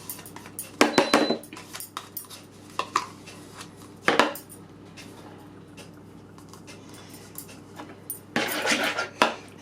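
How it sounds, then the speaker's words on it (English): A spoon scrapes and clinks against a mixing bowl while plain yoghurt is scooped in, giving irregular bursts of metallic knocks and clatter with quieter pauses between them. "all you need to do is to spoon the yoghurt into a mixing bowl"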